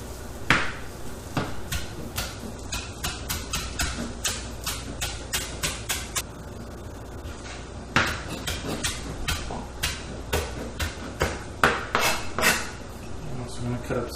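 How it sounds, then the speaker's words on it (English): Knife chopping parsley leaves on a cutting board, a rapid run of sharp taps that pauses midway and then resumes in quicker bursts, close and distinct. "So I'm just going to chop the parsley leaves."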